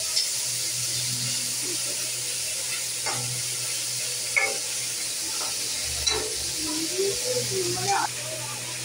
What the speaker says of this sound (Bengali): চিংড়ি মাছটাও একটু কড়াতে ভেজে নিচ্ছে